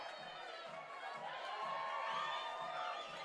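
A softball crowd cheers and shouts excitedly for a T-shirt toss at a Gamecock game, a distant, steady wash of voices with whoops rising toward the end.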